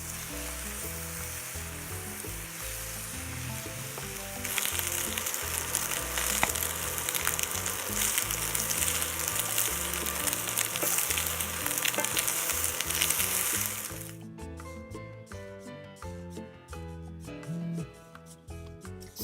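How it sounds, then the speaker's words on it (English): Tortillas fry in a little vegetable oil in a pan for BBQ chicken tostadas, a steady close sizzle that jumps louder when one hits the oil, then drops back to a quieter crackle near the end. "So all you want is a little bit of vegetable oil in your pan, and you're going to go ahead and fry your tortillas on both sides."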